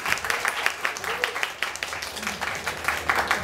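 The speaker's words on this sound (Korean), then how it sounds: "여러분들 박수 한번 주세요." Audience applause at a B-boy breakdancing lecture event in Korea, rapid dense clapping for several seconds with voices mixed in over it.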